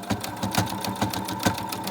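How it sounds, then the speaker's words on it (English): A button-operated sewing machine stitches a book page topper for a journal, running slowly in a steady rhythmic chatter of about two needle strokes per second, close and alone. "my sewing machine's got a button rather than having to use a foot pedal"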